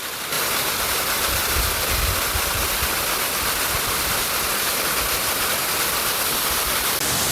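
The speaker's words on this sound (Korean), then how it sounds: "북산 용추폭포입니다." Yongchu Falls in the Mureung Valley of Dutasan pours with a loud, steady, broadband roar of falling water that fills the whole stretch without a break.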